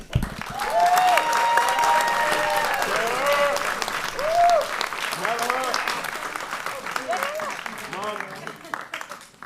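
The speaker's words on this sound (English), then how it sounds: "this is one we really want to just hear a lot of great applause for her" An audience at a Boston School Committee meeting applauds steadily for a few seconds, the clapping loud and continuous, with people talking and calling out over it as it tapers off.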